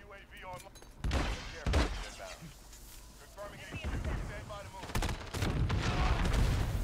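Gunfire in a Modern Warfare match, shots aimed at a planted C4 explosive, sharp reports and booming blasts scattered across the stretch, with excited talk running throughout.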